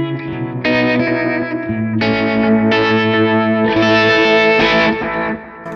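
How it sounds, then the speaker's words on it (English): Electric guitar chords through a Line 6 Helix LT ring out one after another, wavering in volume with a pulsing tremolo effect, loud and sustained. "here I've got my cool tremolo sound that I like a lot"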